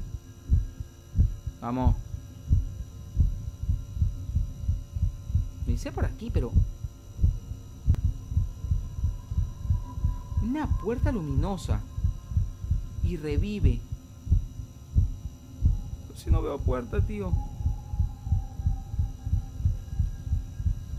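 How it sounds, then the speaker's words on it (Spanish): A steady, pulsing heartbeat in the horror game Inside Backrooms, a rapid thumping rhythm repeating throughout while someone speaks Spanish over it at intervals. "No estoy perdiendo el latido."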